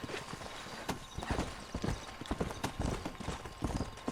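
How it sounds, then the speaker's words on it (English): Rapid, uneven clip-clopping of several horses' hooves in the video game Red Dead Redemption, a steady patter of sharp hoof strikes throughout. "Why are there 3 horses?"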